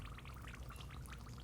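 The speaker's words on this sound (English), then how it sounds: "Do you hear that bubbling? That's a really fun noise." Water poured into a cement mix for a DIY planter, a brief soft gurgling and bubbling with a steady low wash, faint and close, alone with no talk.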